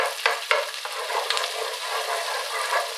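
Vegetables being stirred in tomato puree in a hot pan, giving a continuous close sizzle broken by a few scraping knocks of the spoon.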